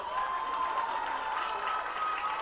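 A capacity crowd at Flynn Stadium during a high school football game applauds and cheers steadily, a dense even wash of clapping and crowd noise with no break.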